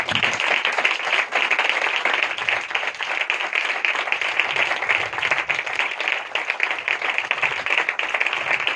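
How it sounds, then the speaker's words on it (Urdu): A church congregation claps during a Sunday sermon, a dense run of many hands beating in a fairly steady rhythm, loud and sustained for several seconds without speech. "ہم اس نام کے لیے تالیاں بجائیں گے"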